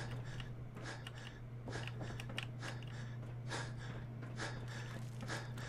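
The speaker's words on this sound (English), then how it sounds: "You hear a lot of heavy breathing." Heavy, rasping breaths repeat steadily in the Fallout 4 video game, inside a vault, with a constant low electrical hum running underneath.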